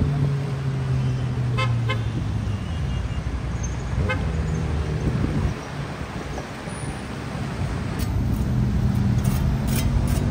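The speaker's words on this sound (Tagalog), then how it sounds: "ganyan kadami yung mga sasakyan dumadaan dito sa elliptical road" Road traffic flows along Elliptical Road in Quezon City, with a steady roar of passing cars, wind and several short car horn toots. No one speaks.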